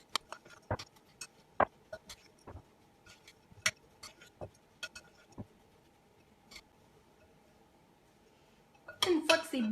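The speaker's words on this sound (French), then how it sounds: "Et on va bien mélanger pour essayer d'enrober chaque flocon de notre mélange de beurre d'arachide." A spoon stirring oat flakes into a peanut butter mixture in a bowl, giving scattered irregular clinks and taps against the bowl, quiet and close, with a brief burst of voice at the end.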